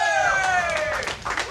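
A StarCraft 2 esports crowd at a live studio match cheers and chants continuously, loud and close, with a commentator's voice riding over the noise.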